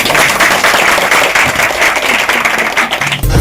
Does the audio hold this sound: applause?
yes